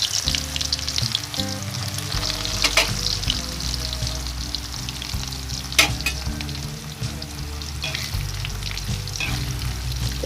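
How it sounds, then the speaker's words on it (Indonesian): Tempe fries in hot oil with a continuous close sizzle and occasional stirring scrapes, under soft background music. "Setelah minyaknya panas, goreng tempe tadi ya."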